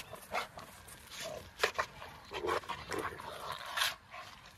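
A puppy plays roughly with another dog and bites at it, giving soft grunts, snuffles and small yips in scattered bursts, fairly faint and close, with some quiet talk.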